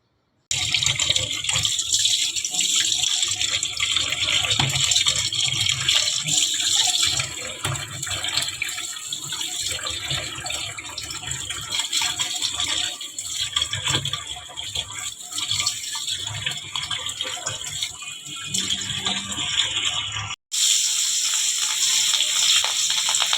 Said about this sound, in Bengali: মাছ কাটা শেষ, এখন ধুয়ে নিব।